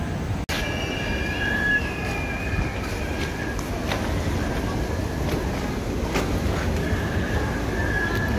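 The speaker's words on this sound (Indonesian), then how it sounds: "Banyak kereta api." Trains pass near Manggarai station with loud, continuous rumbling and high metallic wheel squeals that rise and fade, close by, with no talking.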